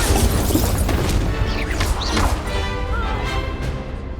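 Incendio fire spell cast in Hogwarts Legacy, a loud roaring, crackling burst of magical flame and impact booms, sustained throughout with game combat noise.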